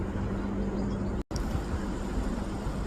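A steady, broad jet roar from a Boeing 777 airliner climbing out overhead, heard from a home garden. It is continuous and even except for a split-second dropout, with no talking.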